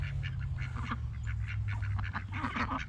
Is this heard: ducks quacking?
yes